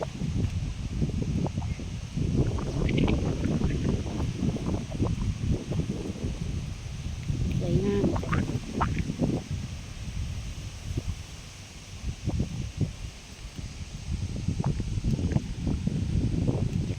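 Cool wind blowing across a dam among rice fields, a steady broadband rush with gusty low buffeting on the microphone throughout, faint rustling and no talk.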